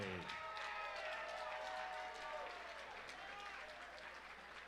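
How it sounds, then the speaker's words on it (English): A crowd at a combat sports fight night applauds steadily and loudly throughout after a three-round bout, dense clapping filling the space and slowly tapering toward the end. "a round of applause for one great fight"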